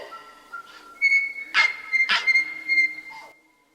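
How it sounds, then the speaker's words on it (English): Recorded song of a tui, a native New Zealand bird: a few clear whistled notes and two sharp bursts over several seconds, fairly close and alone with no talk. "Here's the sound of a tui."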